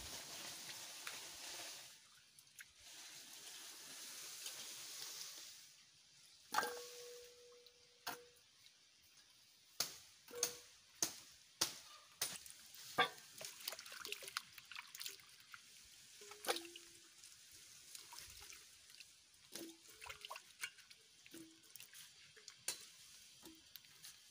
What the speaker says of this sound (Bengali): কাটা হয়ে গেছে, আমি এখন ধুয়ে নিচ্ছি